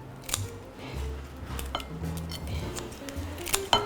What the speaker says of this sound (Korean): 지느러미 요거 다 가위로 잘라 주시고요.